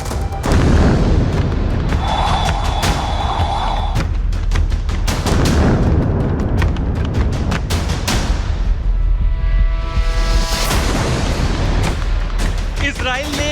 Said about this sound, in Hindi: कैसे बैरूत में गोले बरस रहे हैं, बम बरस रहे हैं